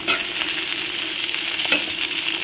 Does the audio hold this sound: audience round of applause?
no